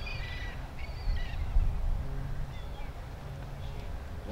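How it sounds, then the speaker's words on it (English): A mixed flock of gulls calls in short, scattered cries over a steady low rumble, with faint voices now and then. "what you got is a mixture of gulls"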